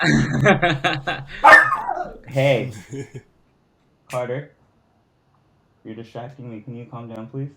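A pet dog named Carter whimpers and yips in short bursts close by, mixed in with a voice speaking to him, then falls quiet before another brief flurry of vocalizing.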